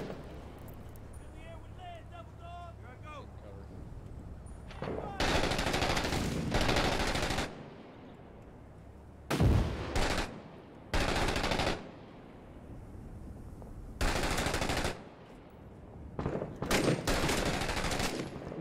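Several loud, rapid bursts of machine gun fire in the military shooter video game Six Days in Fallujah, set in urban combat, separated by quieter gaps with a low rumble and muffled voices underneath.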